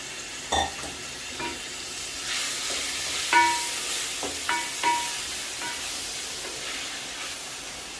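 Diced tomatoes hit a pan of browned onions and cook with a soft steady sizzle, broken by several clinks and scrapes of stirring against the pan.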